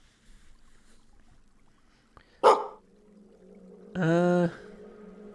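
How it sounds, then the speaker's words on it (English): A short game-style dog bark alert sounds once, loud and close, then a tonal, harmonic sound-effect hold follows about a second and a half later over a faint low hum. "A plant that sounds like a dog."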